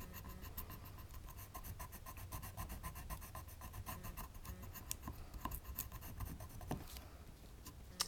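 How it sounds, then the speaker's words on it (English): A rub-on transfer being burnished onto a greeting card, soft, steady scratchy rubbing strokes in quick repetition, quiet and close, with no talk. "And then I'm just going to rub it on."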